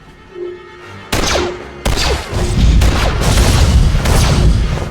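Explosions from generators overloaded on a foundry level in Star Wars: The Old Republic, Ilum story arc: sudden loud blasts that build into a sustained rumbling barrage of bursts and crashes, with no talking.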